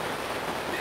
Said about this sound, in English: Step out in the rain.